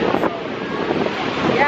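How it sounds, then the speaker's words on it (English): Ocean waves break at Muizenberg Beach on the Indian Ocean near Cape Town, a brief, loud, steady wash of surf mixed with heavy wind rumble on the microphone. "the waves are killer right now"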